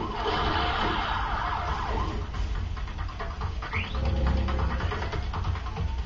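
Ambulance siren in the video game Spider-Man: Web of Shadows, a loud wailing tone over continuous city traffic and engine rumble, with no speech.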